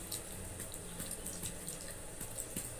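Water runs from a tap in a steady faint stream, with light splashing and clinks in the background.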